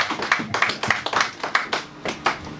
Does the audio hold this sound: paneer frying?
no